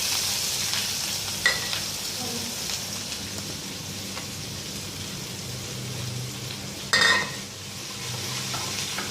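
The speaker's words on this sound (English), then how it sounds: "starts fluttering, I add onions" Onions frying in hot oil with mustard seeds spluttering in a pan: a steady gentle sizzle broken by occasional crackles and pops, with one louder burst of spitting, close and moderately quiet.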